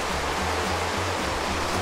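The Passirio river rushes through the middle of a town, a steady, broadband roar of flowing water, continuous and even with no voices.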